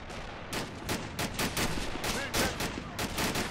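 MG42 machine gun fire in a WWII Normandy 1944 shooter game, loud repeated bursts of rapid shots with brief gaps between volleys, close and dominant.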